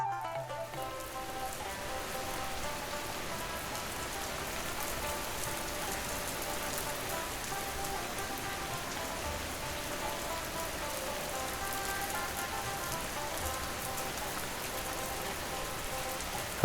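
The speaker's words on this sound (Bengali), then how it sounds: "যা বৃষ্টি হচ্ছে মনে হচ্ছে এইবার সব শেষ" Heavy cartoon rain falls during a village flood, a continuous wash of pattering drops at a steady level, with faint tonal background music running beneath and no voices.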